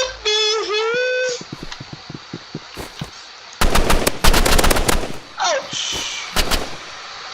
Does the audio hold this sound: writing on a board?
no